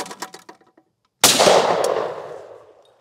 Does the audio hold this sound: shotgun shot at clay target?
yes